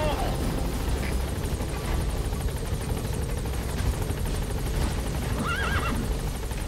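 A horse whinnies amid a steady helicopter rotor drone in the video game Metal Gear Solid V: The Phantom Pain, with voices talking over the continuous engine noise.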